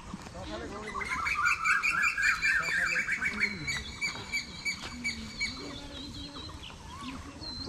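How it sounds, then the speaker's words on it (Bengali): Morning birds by a river in Natore call and squawk in bright chirping bursts near the start, then thin out into scattered calls as someone talks over them for most of the stretch. "সকালবেলা পাখি ডাকতেছে"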